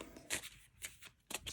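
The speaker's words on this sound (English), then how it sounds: "just a couple more shuffles and we will pull." Tarot cards shuffled by hand in a few quick, crisp riffling bursts separated by short pauses, close up and fairly quiet.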